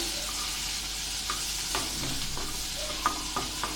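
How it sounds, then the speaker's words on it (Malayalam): Butter melting in a pan for paneer tikka masala gives a steady, close hiss of sizzling, broken by a few soft clinks and scrapes of stirring. No one speaks. "ഈ ബട്ടർ ഒന്ന് നന്നായി മെൽട്ടാവണം."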